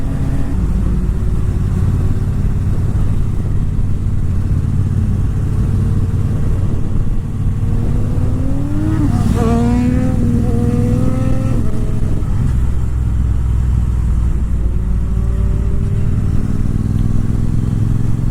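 Triumph motorcycles, a Bobber Black and a Street Triple RS, riding together on country backroads, one doing wheelies; a steady loud engine drone with one rising rev sweep partway through, mixed with wind rush.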